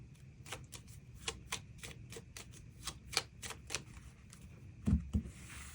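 Tarot cards are shuffled and drawn in a quiet room, giving a series of crisp, quick riffling flicks and taps, close and soft, with a couple of sharper snaps near the end.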